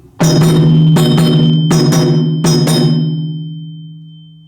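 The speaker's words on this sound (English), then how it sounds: "Now let's add the bell." Loud metallic bell strikes ring out in pairs, layered over booming low dundun drum tones in a steady pattern, then fade as the notes sustain.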